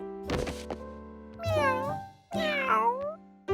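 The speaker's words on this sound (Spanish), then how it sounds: "Oh! ¡Mi gato Piccolo" Cartoon cat meowing in an animated children's show: two or three drawn-out, rising-and-falling meows with a soft thump early on, fairly clear and with no talk.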